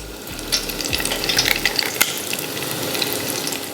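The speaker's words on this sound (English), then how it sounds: "we are going to drop these in our deep fryer" Apple fritters dropped one after another into a deep fryer, hot oil crackling and sizzling steadily with a few sharp pops and splashes as each piece goes in.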